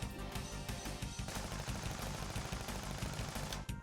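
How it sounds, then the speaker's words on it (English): Rapid automatic gunfire from a chain gun attack in the RPG YIIK, a dense continuous burst of shots with steady rhythm and a game soundtrack faintly underneath, no voices. "Let's see chain gun."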